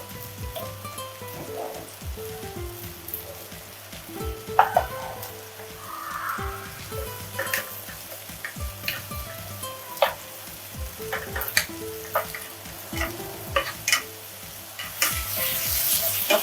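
Chopped onions frying in oil left from cooking fish, a continuous crackling sizzle with frequent spatula scrapes and clinks against the pan, steady and fairly close, with no speech.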